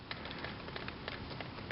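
Steady rain from Tropical Storm Ida falls in Fort Walton Beach, Florida, a soft continuous patter with scattered brighter drop ticks, faint and unbroken, with no voices.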